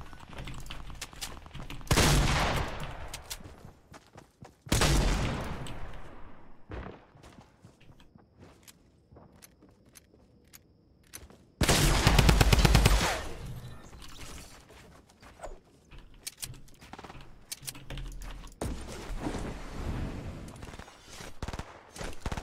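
Gunfire in the video game Fortnite, with several loud bursts of rapid shots separated by quieter stretches of footsteps and movement in between.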